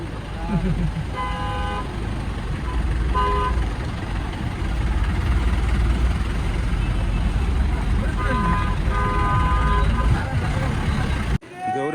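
Car and bus horns honk repeatedly in a traffic jam on the road to Gaurikund near Kedarnath, heard from inside a moving jeep over a constant low engine rumble, with people talking now and then.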